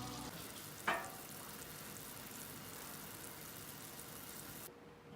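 Tapioca balls cook in a pot in batches, giving a quiet, steady bubbling sizzle with one brief clatter near the start before the sound drops away.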